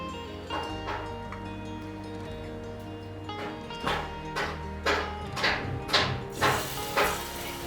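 Bitter gourd chops frying in hot oil, a steady sizzle with bursts of louder crackling as pieces go in and are moved around, close and fairly loud over a faint tonal hum.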